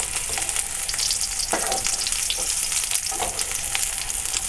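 A burger patty fries in a hot pan for a homemade double bacon cheeseburger, a steady, close, broadband sizzle and crackle running without pause, with a few slightly louder spits near the middle.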